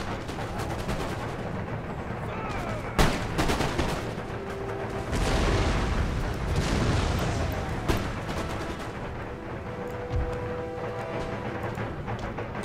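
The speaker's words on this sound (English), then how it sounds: "Once these guys begin to fire, once they've reloaded" Troops fire muskets during a battle in Empire: Total War, with scattered cracks and rolling volleys of gunfire over a continuous dense battlefield rumble, including a few sharp nearby shots.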